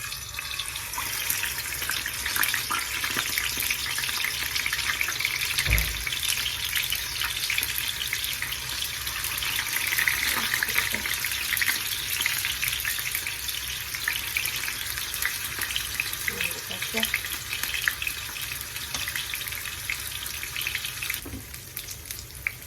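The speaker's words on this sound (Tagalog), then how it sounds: "Painitin ng ating kawali. At ipiprito natin ang ating tokwa." Tofu frying in a hot pan, a dense steady crackling sizzle heard up close throughout, with occasional clinks and a thud of utensil movement.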